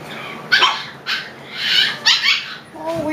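Five-week-old husky and Klee Kai puppies give a run of short, high whimpers and yips, close up. A few sharper barks stand out among the cries, ending in a low whine.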